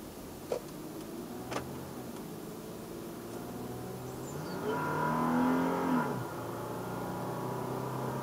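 A car on the Islamabad to Lahore motorway hums steadily with a couple of sharp ticks, then its engine swells loudly as it accelerates and settles back to a steady cruising drone.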